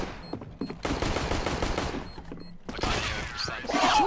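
Rapid automatic gunfire from Counter-Strike: Global Offensive rattles in two loud bursts, with a brief near-silent pause before the second, harsher volley.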